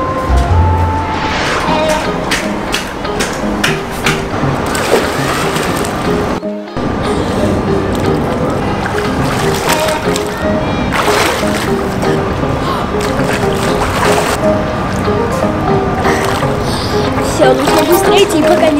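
A boy swims and splashes in a pool, with steady sloshing and splattering water throughout, a brief lull near the middle, and voices faintly in the background.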